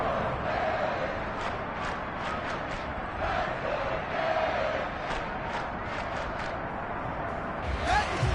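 A stadium crowd in a Madden football video game roars and cheers steadily ahead of a big third down, a dense wall of noise with a few louder swells.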